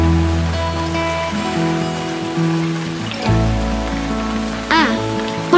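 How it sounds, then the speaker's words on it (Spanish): Rain falls in a steady wash under a layer of melodic background music, with a soft, continuous patter running through the whole stretch. "¿De repente está lloviendo?"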